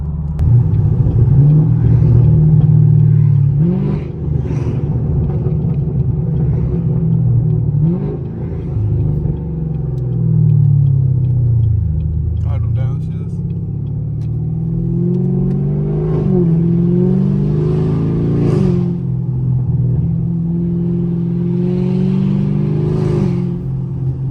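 A catless straight-piped Camaro SS with a 6.2L V8 roars loudly from close by as it downshifts. Repeated rev blips and swooping pitch changes rise and fall over a deep, continuous rumble.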